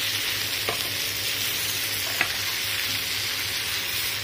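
Chicken malai curry with capsicum being mixed in a hot pan: a steady, even sizzle throughout with a couple of faint spoon scrapes or taps against the pan.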